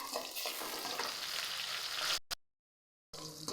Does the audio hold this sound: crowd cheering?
no